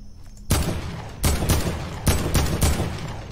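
An AK assault rifle fires in the video game Fortnite, sounding as loud clusters of shots that start abruptly and break off with short pauses between bursts, with no voices over them.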